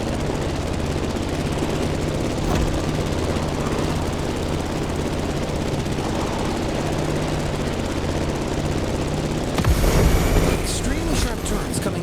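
A plane's engine drones steadily in the racing game The Crew Motorfest, a continuous rough whir that surges briefly near the end, with a voice talking over it.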